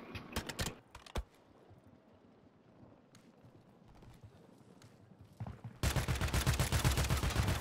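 Rapid video-game gunfire, heard as a few sharp shots at the start and then a loud, sustained burst of automatic fire near the end.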